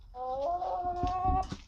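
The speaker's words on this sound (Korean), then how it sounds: "꼬꼬 소리 들리나요 여러분" A single drawn-out chicken call, tonal and wavering, with soft clucks and rustling close by in the background inside a chicken coop.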